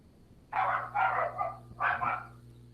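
Dogs bark in three short bursts with a brief pause before the last, moderately close, over a steady low hum.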